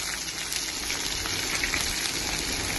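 Ginger and green chilies frying in oil, a constant close crackling sizzle with no talking.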